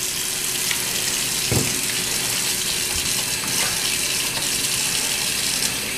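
Hands being washed with antibacterial soap under a running faucet at a kitchen sink, a steady broadband rush of water flowing throughout, with a faint clunk midway and no talking.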